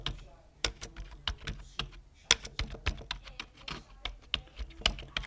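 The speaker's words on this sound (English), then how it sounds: "As you can hear, typing with the keys." Fingers type on a wired USB RGB backlit computer keyboard, giving a close, quick run of light individual key clicks at an uneven pace, fairly quiet overall with no voice over them.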